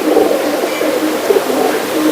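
An old pigeon, kept for seven or eight years, coos in a steady low murmur close by, the soft throaty pulses running on without pause through the whole moment.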